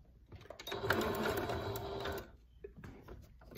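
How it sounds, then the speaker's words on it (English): A sewing machine back-stitching a small fabric hot pad runs in one close burst of rapid mechanical stitching for over a second, then stops, followed by quieter handling sounds. "Do a little back stitch there."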